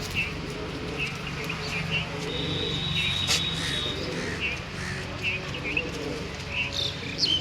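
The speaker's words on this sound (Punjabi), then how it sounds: "ਕਬੂਤਰ ਵੀ ਐਨ ਫਿੱਟ ਬੈਠੇ ਆ ਆਪਣੇ" Soft pigeon coos repeat at intervals over a steady background hum, with a few brief chirps and a thin whistle-like tone midway.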